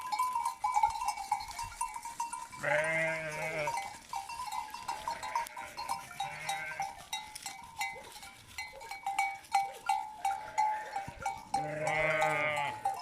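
Sheep and lambs bleat in repeated wavering calls on a farm in March, several loud nearby bleats separated by quieter stretches of barn noise.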